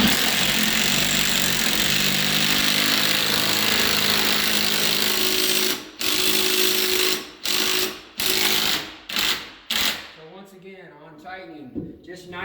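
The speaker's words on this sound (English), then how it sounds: "Now I'm going to take and I'm going to bolt the center up." Power tool driving bolts into a wall-mounted handrail bracket, a loud continuous buzzing run followed by a series of short, sharp bursts as the bolt is snugged down.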